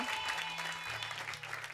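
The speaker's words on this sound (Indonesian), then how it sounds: "Sahabat dahsyat di sini harus tepuk tangan dong" A studio audience at the Dahsyat music TV show claps in a steady, dense burst of applause, close and continuous throughout without talk.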